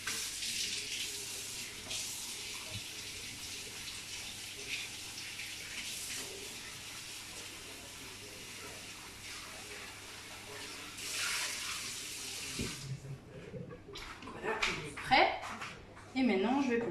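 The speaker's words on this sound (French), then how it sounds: "je vais aller rincer mon moule brioche à l'eau tiède" A brioche mould rinsed under lukewarm tap water in a kitchen, the steady hiss of running water near and fairly faint, then stopping with some clatter and a voice near the end.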